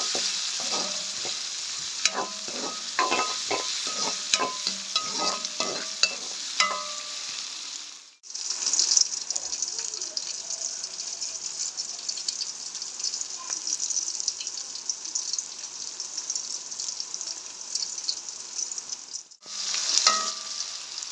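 Onions sautéing in oil in a pot for a Jaffna-style chicken curry, a steady bright sizzle running throughout with brief stirring clatters early on and two short breaks in the frying sound.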